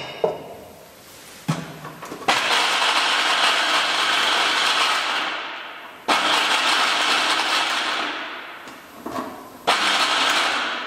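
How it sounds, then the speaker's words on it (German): An electric chopper grinds walnuts in loud whirring bursts, two long runs and a shorter one with brief stops between, close and dominating the room. "Die Walnüsse mal kurz durchgehackselt."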